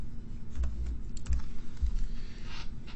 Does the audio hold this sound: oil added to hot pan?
no